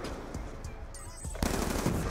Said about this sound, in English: he got lit up by the turret